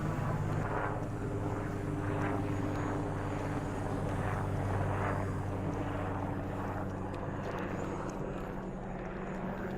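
A small drone hovering and flying like a helicopter, its steady propeller whine continuous and fairly loud throughout, with a faint voice murmuring underneath.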